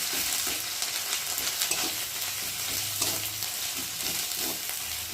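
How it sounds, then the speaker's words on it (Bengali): Cumin seeds and ginger frying in oil with turmeric and salt, a soft steady sizzle with light stirring, fairly quiet and close. "জিরে আর আদাটা একটু ভালো করে ভেজে নেব।"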